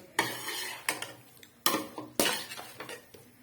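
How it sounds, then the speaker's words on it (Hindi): Palak gosht is stirred in a pot, with a handful of sharp metallic scrapes and clinks of a spoon against the pot, spaced irregularly and close, each one followed by a soft sizzling rustle. "तो अब इसकी हम थोड़ी सी करेंगे बुनाई।"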